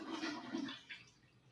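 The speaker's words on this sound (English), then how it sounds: "I'm gonna flush the toilet since it has pee in it" A household toilet flushing nearby, a broad rushing gush of water that swells and fades over a second and a half with no talk over it.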